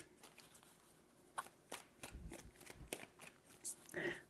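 Tarot cards are shuffled softly and close by, giving scattered papery flicks and taps that grow denser and louder toward the end.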